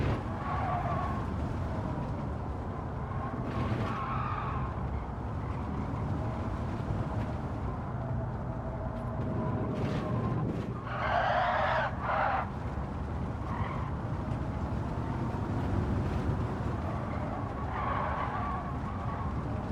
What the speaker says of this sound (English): This high-speed section is very tricky in this heavy car.